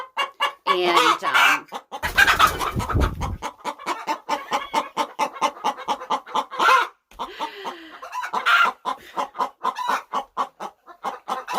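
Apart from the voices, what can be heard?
hen singing the egg song, backyard chicken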